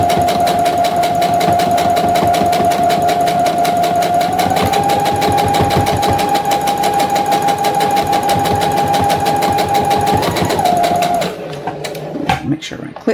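A sewing machine stitches a fabric lanyard in a fast, steady mechanical chatter with a sustained motor whine, running continuously for about eleven seconds before stopping, followed by a few small clicks and handling noises.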